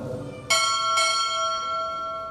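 Two loud, ringing strokes of a ship's bell at a U.S. Navy chief petty officer pinning ceremony, the second following about half a second after the first, each leaving a long shimmering decay.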